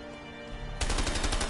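Gunfire in the video game A Way Out: a low background hum for a moment, then a loud, rapid burst of repeated shots filling the second half, with no talk over it.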